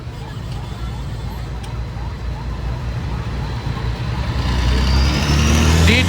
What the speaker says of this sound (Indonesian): Jalanan penuh macet, tidak bergerak